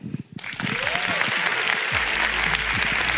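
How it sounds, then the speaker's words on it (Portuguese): Audience applause at a diversity and inclusion summit talk on algorithmic bias and ethical technology, a dense, steady roar of many hands clapping that swells in after a brief pause and continues loudly to the end. "Palmas, por favor"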